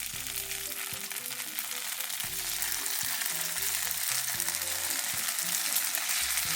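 Starch-dusted tofu pieces fry in an oiled, preheated pan with an even, close, dense sizzle that holds steady throughout under a faint low hum, with no voices.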